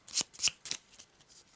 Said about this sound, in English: So we'll give these a quick shuffle.